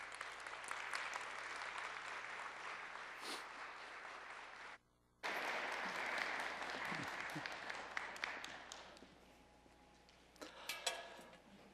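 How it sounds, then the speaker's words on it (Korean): Audience applause greets a pastor's arrival at a church fellowship fasting retreat. Steady, moderately distant clapping fills the room, pauses briefly, then resumes and carries on with a few sharper claps toward the end. "우리 목사님 나오실 때 큰 박수로 환영해 드리겠습니다."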